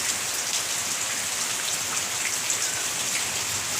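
Heavy monsoon rain pours down steadily and loudly, a dense, even hiss of drops hitting surfaces with no letup and no voices.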